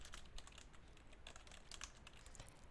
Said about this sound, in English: I'm going to double space and type the salutation, Dear Mr. Gibson.